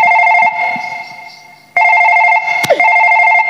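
An electronic telephone ringtone rings loudly in repeated bursts, pausing briefly before resuming, with a short sharp knock partway through, in a comedic skit scene.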